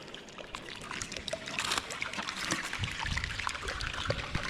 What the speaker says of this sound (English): this iceberg's making crazy noises. It sounds like it's being deep fried.